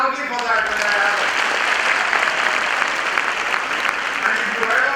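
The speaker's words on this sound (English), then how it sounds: "You're supposed to clap loudly for that when that happens." Steady, loud applause from an audience at a youth leadership programme address, sustained clapping from a large crowd without a break, close and even throughout.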